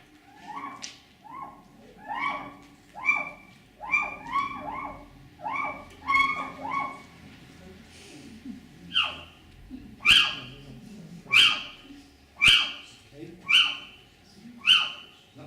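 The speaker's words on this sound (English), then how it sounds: "The first one you'll hear is on your left, which is the little owl." A little owl calls: a series of rising, whistled hoots repeating at a steady pace, about a dozen clear calls, sharper and louder toward the end.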